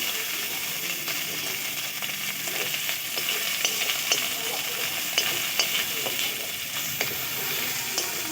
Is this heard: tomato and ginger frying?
yes